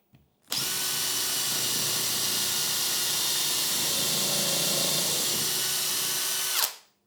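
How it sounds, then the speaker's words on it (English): A power drill bores a hole in wood, running steadily for about six seconds, a loud, continuous whirring grind close by, starting and stopping abruptly with no talk. "And again, you drill your hole."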